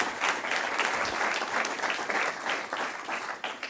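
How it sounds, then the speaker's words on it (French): Steady applause from an audience at a facility inauguration ceremony, dense clapping sustained throughout at moderate distance with no talking. "Vos applaudissements, s'il vous plaît"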